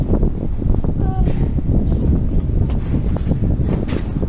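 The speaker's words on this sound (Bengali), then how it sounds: "হঠাৎ করে প্রচুর বাতাস" A strong, sudden wind sweeps across a rooftop as dust rises ahead of rain, giving a loud, continuous low buffeting rumble close to the microphone.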